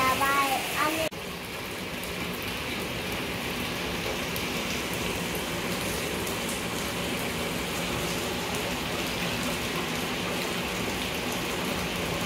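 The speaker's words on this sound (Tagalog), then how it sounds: "Lakas ng ulan, oh." Heavy rain pours down in a steady, dense hiss that fills the whole clip, with a brief burst of other noise at the very start.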